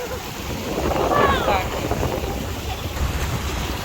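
Big waves wash and splash against large rocks on a shore, a continuous rushing roar with gusty wind buffeting close to the microphone.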